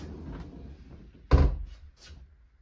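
Sliding barn doors in a Jayco 382FLRB caravan pulled shut, a single close thud with a short rattle afterwards, heard close up and fairly quiet in an otherwise still interior.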